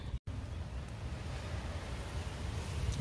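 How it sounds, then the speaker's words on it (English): Steady wind blows outdoors against the microphone, a continuous low rumbling gust with a brief dropout near the start, no voices. "Very windy out here."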